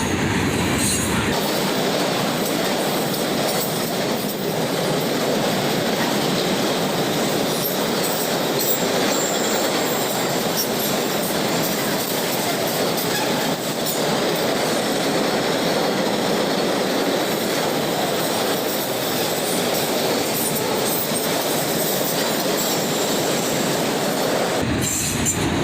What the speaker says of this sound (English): A big cut of coil chute cars start off this train